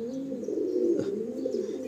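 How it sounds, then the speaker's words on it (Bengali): Soft, low pigeon cooing, a steady throaty murmur of several birds close by, continuing without pause. "এই পায়রা আকাশ ভাইয়ের বাড়িতে অনেক না, মানে এই এক জোড়াই ছিল?"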